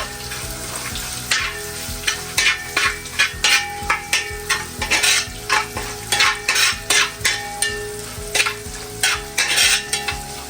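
Coconut pieces and ginger frying in oil in a pan, a lively sizzle punctuated by a regular run of spatula strokes scraping and knocking against the pan, close and fairly loud over background music.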